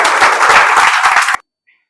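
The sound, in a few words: audience applauding loudly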